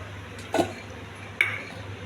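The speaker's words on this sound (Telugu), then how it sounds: "పాలల్లో బెల్లం కలిపానండి" A spoon stirring jaggery into milk in a vessel, giving two brief separate scraping clinks against the container over a faint steady hum.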